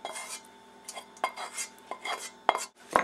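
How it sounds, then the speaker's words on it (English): A utensil stirs a mushroom, onion and garlic mixture into beaten eggs in a bowl, giving soft scraping swishes and several sharp clinks against the dish, close and fairly quiet. "Stir all that together."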